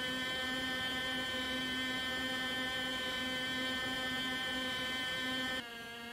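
A 125cc two-stroke kart engine in the Automobilista 2 racing game, at Cadwell Park, holds a steady, buzzing high-pitched whine, then drops slightly in pitch and level near the end.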